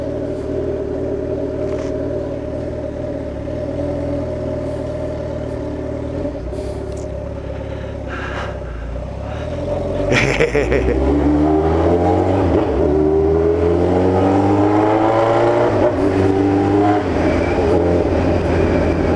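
A pink Suzuki B-King motorcycle engine idles with a steady drone, then revs up loudly, its pitch rising and falling through repeated throttle blips, alongside other traffic rumble on a Sunday ride.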